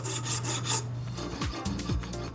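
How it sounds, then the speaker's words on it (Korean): A file rasps back and forth across hard ebony wood, shaping it into an octagon for a traditional Korean jangdo knife; the strokes are close, steady and rhythmic, with no talk. "단단한 흑단을 갈아 팔각도 모양을 잡습니다"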